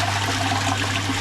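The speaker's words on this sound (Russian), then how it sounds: "Ну давайте смоем унитаз и посмотрим, как бы смывается или нет." A toilet inside a converted bus living space at a ski resort flushes, giving a steady rushing trickle of water close by, with a constant low hum underneath.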